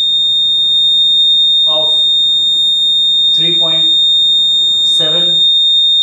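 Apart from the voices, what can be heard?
piezo buzzer oscillating at 3.7 kilohertz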